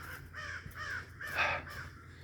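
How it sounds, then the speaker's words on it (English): Several crows caw in a forest, a run of harsh, rasping calls in quick succession at moderate distance, one louder caw standing out near the middle, over a low steady background hum. "lots of crows out today"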